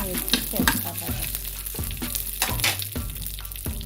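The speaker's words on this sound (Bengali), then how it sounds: "ঘিটা গরম হয়ে গেছে, দিয়ে দিচ্ছি কাঠবাদাম এবং পেস্তা বাদাম দুটোই।" Almonds and pistachios fry in hot ghee with a continuous sizzle, while a utensil stirs them in rhythmic scraping sweeps about once every second.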